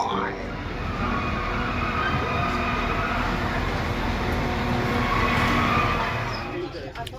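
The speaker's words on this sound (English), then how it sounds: "On the train." Passenger train running on rails heard from inside a carriage, a steady loud rumble and rattle of wheels with a faint squeal, continuous throughout with no break.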